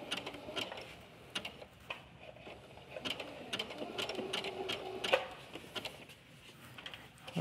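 A sewing machine stitches a wobble stitch on knit fabric, giving quiet, uneven mechanical ticking and whirring in short bursts with a brief steadier run, faint and close.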